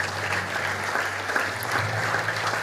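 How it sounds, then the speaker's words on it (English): Audience at a convocation of priests clapping continuously, a steady mid-level wash of applause over a low background hum, with no talk. "Don't stop clapping."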